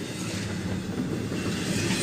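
A CSX freight train hauling autoracks rolls past close by at night, giving a steady, dense rumble of rail noise throughout with no pauses.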